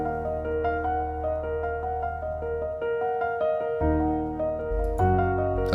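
An FL Studio beat plays a steady melodic loop with a deeper layer of root notes moving underneath, sounding continuous and moderately loud with no voices.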